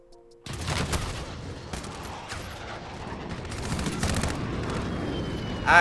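P90 submachine gun fire in a shooter video game played on a controller, bursts of rapid automatic shots starting abruptly after a quiet moment, loud and close, with a sustained rattling roar and brief gaps between bursts.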